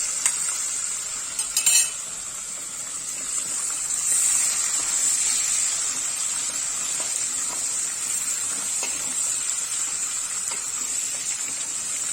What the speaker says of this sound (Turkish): Şöyle tereyağımızı ekliyoruz.